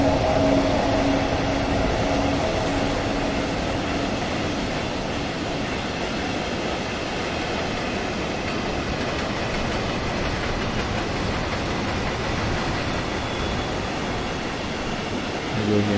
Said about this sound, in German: Und so rollt unser Zug dann erstmal weiter.